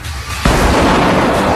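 A flashbang grenade goes off with a sudden loud blast, followed by a sustained roaring, crackling wash of noise.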